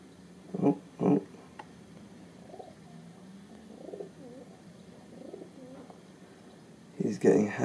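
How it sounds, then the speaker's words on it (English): Pigeons on a sunny rooftop give a few soft, low coos, with two louder bursts near the start and another at the end, over a quiet background of faint murmuring. "He's getting hassled by another pigeon."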